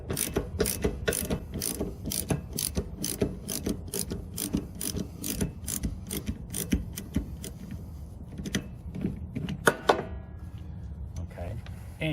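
Socket ratchet with a 15/16 socket working loose an old water heater drain plug on a travel trailer: rapid, steady clicking of the pawl up close for about nine seconds, then slower scattered clicks and a metallic clunk.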